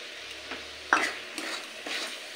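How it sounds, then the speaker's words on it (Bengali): Spice paste and rice sauté together in a pan, giving a low sizzle with a few sharp scrapes and clinks from a spatula against the metal. "এই সময় চালটাও দিয়ে চালের সাথেও মশলাটা আরও কিছুক্ষণ কষিয়ে"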